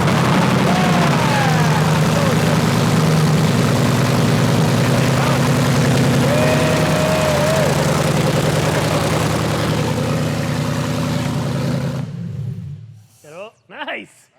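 Engine of a Factory Five Mk4 Challenge Car, no body fitted, roaring loud and steady through its first-ever startup, then cutting off near the end as voices speak.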